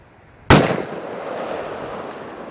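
A single sharp, very loud blast from a .460 Magnum revolver going off, with the boom ringing and decaying over the next two seconds.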